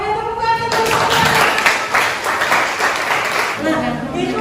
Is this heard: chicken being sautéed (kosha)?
no